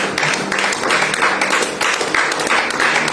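A church congregation applauds steadily, with dense, continuous clapping in a rhythmic pulse that carries throughout, fairly loud and filling the room.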